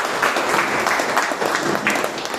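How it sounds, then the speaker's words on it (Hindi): Steady crowd applause with dense clapping throughout a program gathering in Goregaon, loud and continuous with no break. "लिए जोरदार ताली"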